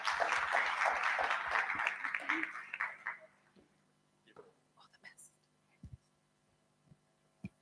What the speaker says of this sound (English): So please let us give Baba a round of applause.